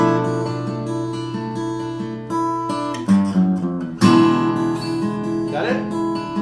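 Steel-string acoustic guitar plays a fingerstyle passage, sustained melody notes ringing over bass, with two sharper strummed accents partway through, close and clear with no talking.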